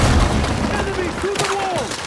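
A wall breach explosion in the video game Battlefield 6 opens with a heavy, rumbling blast followed by scattered gunfire and action noise, while a voice talks over it.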